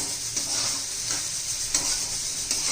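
Diced potatoes being sautéed in a pan for sabudana khichdi, a bright continuous sizzle punctuated by regular scraping strokes of a spatula stirring, close and fairly loud.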